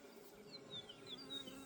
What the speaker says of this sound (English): I'm going to brush these bees off my redneck weeds right here.